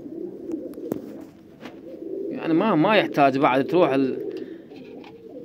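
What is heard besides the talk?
pigeons cooing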